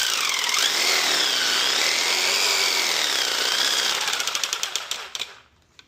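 A scroll saw shakes a paint can, giving a loud, steady buzzing rattle that holds for about five seconds, then breaks into a few stuttering knocks and stops.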